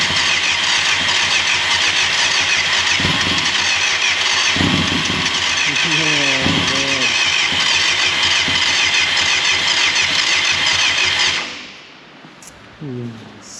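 A 1989 Yamaha FZR600 Genesis motorcycle engine runs loud and close, cranking and catching into a ragged, sustained roar. It cuts out near the end, followed by brief voices.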